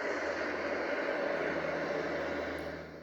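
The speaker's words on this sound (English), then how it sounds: "This one is wind." Steady broadband wind-like hiss played from a K-Mart Anko white noise speaker, continuous and even throughout with no voices, fading slightly at the very end.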